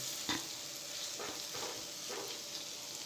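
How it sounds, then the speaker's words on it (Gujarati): Masala okra sizzles in an open pan while a spoon stirs it, a continuous fry hiss broken by several soft scraping strokes, close and fairly quiet. "આ રીતે સરસ મિક્સ કરી દઈશું અને આને ખુલ્લું જ આપણે ચડવા દઈશું ભીંડાને"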